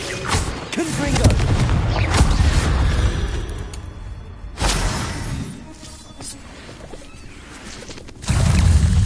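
Confringo spell blasts in Hogwarts Legacy combat, with several heavy booming explosions that swell and fade over a steady background of battle noise, and a voice briefly heard.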